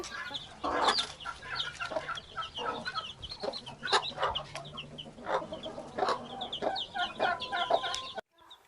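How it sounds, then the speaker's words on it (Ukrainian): Newly hatched chicks peeping in dense high chirps mixed with the soft clucking of broody hens, close and continuous throughout. "Вивелись майже всі курчатка."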